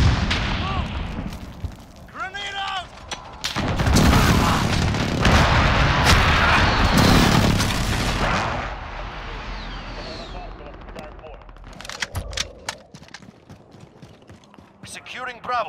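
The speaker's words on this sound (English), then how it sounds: "Enemy precision airstrike!" Precision airstrike in a military video game: repeated heavy blasts and rumbling explosions that build into a long loud barrage, with shouted voices and gunfire around them.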